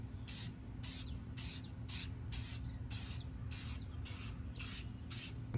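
A trigger sprayer hisses tire shine onto a tire's outer circumference in a steady rhythm, about ten short bursts evenly spaced, close by over a low background hum.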